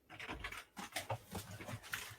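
Dogs that have gotten into a building make faint, rapid, repeated snuffling or panting bursts, each short and close together, at a low level throughout.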